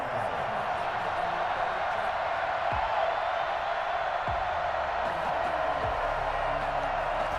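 A steady, dense stadium crowd roar from Madden NFL 21 fills the game's M&T Bank Stadium in Baltimore for a Ravens versus Raiders matchup, holding at an even level throughout with a few dull low thumps underneath.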